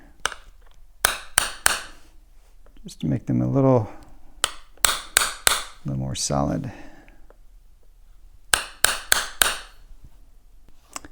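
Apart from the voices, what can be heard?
hammer striking a center punch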